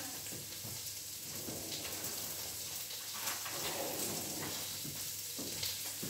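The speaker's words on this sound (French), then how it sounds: "une fois que notre chorizo est doré, eh bien, on va rajouter l'ail et les pois chiches" Browned chorizo sizzling in a pan as garlic and chickpeas go in, a soft, steady crackle with a few stirring bumps, faint and close, no voices.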